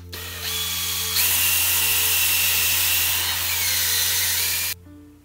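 A power sander grinds down a part of a Stanley hand plane during restoration, a loud continuous abrasive whir held under heavy pressure for several seconds before cutting off abruptly.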